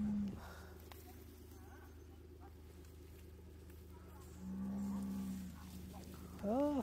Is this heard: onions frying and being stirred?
no